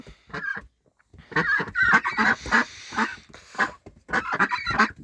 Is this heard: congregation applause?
no